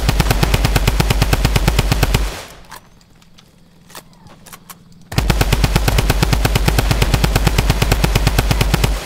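Weapons firing in Fortnite: loud rapid automatic gunfire in sustained bursts, cutting out briefly midway with a few scattered shots before the fast firing resumes.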